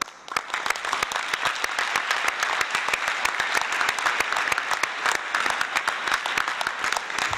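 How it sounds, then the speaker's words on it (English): Audience at a university ceremony applauding new students, a dense steady clapping from many hands that fills the room and carries on evenly throughout, with no voices standing out. "Let's give these new students a round of applause."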